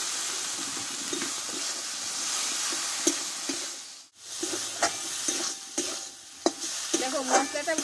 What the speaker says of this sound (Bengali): হলুদটা দিয়ে মশলাটা ভালোভাবে কষে নেব।